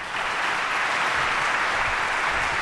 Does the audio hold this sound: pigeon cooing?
no